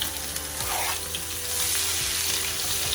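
Onions soften in a pan for a pot roast, a dense, steady sizzle close up with faint stirring scrapes and a low background hum.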